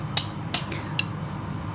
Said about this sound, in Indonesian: saya harus pakai kaki dan tangan, pahat, palu juga ya